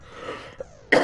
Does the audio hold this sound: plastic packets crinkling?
no